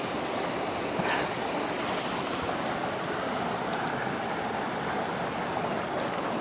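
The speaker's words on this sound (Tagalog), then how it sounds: "Meron ditong mini falls." A small waterfall at Ambon-Ambon Falls in Alfonso, Cavite, gives off a steady, even rush of falling water that holds constant throughout, with no one talking.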